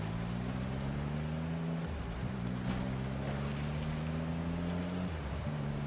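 Speedboat engine in the video game Love & Deepspace holding a steady, droning hum that dips briefly twice and climbs back as the throttle is pushed, over a constant wash of water and wind.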